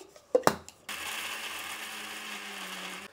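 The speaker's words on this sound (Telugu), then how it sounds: "బాగా మెత్తగా మిక్సీ పట్టేద్దామండి" A mixer grinder starts after a few clicks and knocks and then runs with a steady whirring drone, grinding tamarind, rock salt and a little water into a thick chutney.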